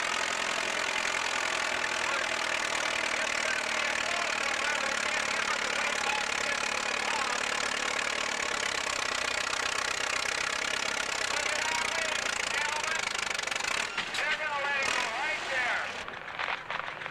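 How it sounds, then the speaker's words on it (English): A large John Deere two-cylinder tractor engine runs steadily at an antique power show, with a loud, continuous, rhythmic chugging throughout and a slight change in tone near the end; speech may be faintly present under the engine. "This is the biggest two-cylinder John Deere"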